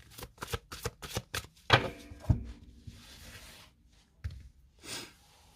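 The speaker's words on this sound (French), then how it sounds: "le temps que je mélange les cartes" Tarot cards are shuffled up close in a quick series of papery riffles and taps, then slower sliding and shuffling sounds with soft pauses between them.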